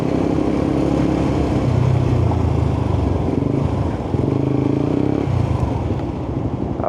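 A Suzuki GSX-R150 motorcycle engine runs close by after a clutch cable replacement, idling with a rough rumble and a few light throttle blips.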